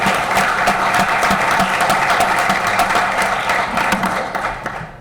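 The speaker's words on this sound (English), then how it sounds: "let's give them another round of applause." At a middle school student council recognition breakfast, the audience gives another round of applause, loud and sustained from a sizable crowd, fading slightly at the end.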